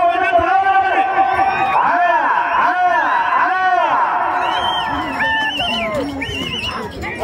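A crowd at a bullock cart race, with a band of voices whooping and cheering loudly and steadily, rising and falling over several seconds before easing slightly toward the end.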